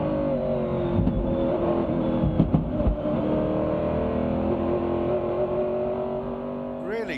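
Onboard a race car at Watkins Glen during the 2005 Rolex Sports Car Series 6 Hours, the engine drones loud and steady with shifts and revving as it runs into the inner loop; a voice briefly speaks over it.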